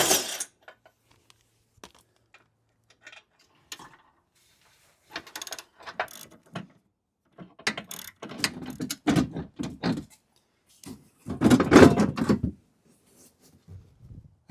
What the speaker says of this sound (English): remove these nuts off of these bolts right here